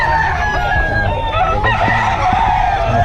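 Roosters crowing at a poultry farm in Bocaue, several overlapping crows with clucking fowl around them, fairly close, and people talking faintly in the background.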